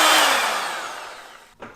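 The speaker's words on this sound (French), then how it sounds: "on va commencer par fouetter le beurre. Une fois qu'on l'a mélangé un peu, on peut venir ajouter le sucre." An electric mixer whisks butter and sugar, its loud motor whine winding down steadily before stopping, then a brief clatter.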